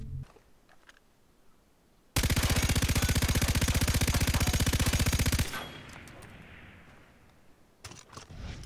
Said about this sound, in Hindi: सो LMGs जो होती है वो लाइट मशीन गन्स होती हैं।